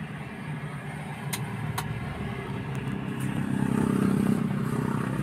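A Toyota Wigo with a blinking check engine light and a faulty injector starts and settles into a steady idle, a low engine hum that grows gradually louder with faint clicks early on.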